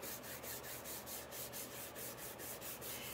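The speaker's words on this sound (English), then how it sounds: "And now you just burnish it on." Repeated rubbing strokes as an adhesive stencil is burnished onto a freshly painted wood shelf-sitter box, a steady close scraping rhythm of roughly four strokes per second with no talk.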